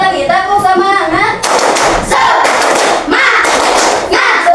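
A group of schoolchildren claps through a classroom cheer chant, rhythmic bursts of hand claps mixed with shouted voices, loud and close, in several repeated rounds.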